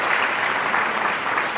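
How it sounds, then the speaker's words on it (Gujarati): Loud, dense applause fills the hall at a company stock-market listing ceremony as the three partner-directors are honoured, a steady close wash of clapping without a break. "આવા ત્રણેય ભાગીદારોને, ડાયરેક્ટરોને હવે જોરદાર તાળીથી આપણે વધાવીએ"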